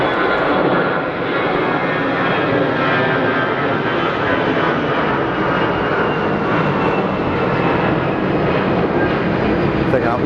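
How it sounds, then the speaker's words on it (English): An Airbus A330-300 airliner at Geneva Airport produces a loud, continuous broadband engine roar that holds steady throughout. "A330-300, 5 years old, it's quite new."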